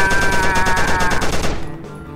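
Rapid automatic gunfire from weapons in the VR shooter Hotel VR rattles loud and close in a dense burst, then cuts off abruptly and fades out.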